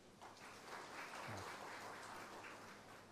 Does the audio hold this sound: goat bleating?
no